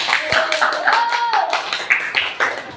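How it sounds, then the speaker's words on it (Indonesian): Students in a classroom clap for a group that has just presented, a brisk, fairly rhythmic run of close handclaps with a voice speaking over them. "beri tepuk tangan kepada kelompok dua"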